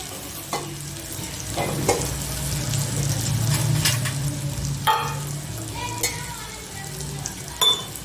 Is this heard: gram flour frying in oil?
yes